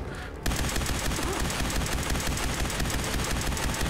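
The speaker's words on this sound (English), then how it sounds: "Give me my frickin' laser cannon." Rapid, continuous laser cannon fire from the Fallout 4 video game bursts in abruptly after a brief quiet moment, then stays loud and dense as a sustained barrage.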